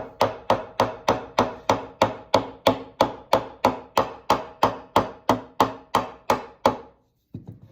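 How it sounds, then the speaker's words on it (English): A fretting hammer taps sharply about twenty times at a steady, quick rhythm, seating mandolin frets, each strike bright and ringing briefly, then stops with one faint knock at the end. "I just have your classic fretting hammer."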